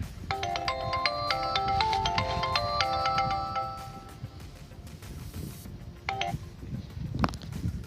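A melodic phone ringtone plays a repeating tune of electronic notes, then stops, followed by a couple of brief beeps over background noise.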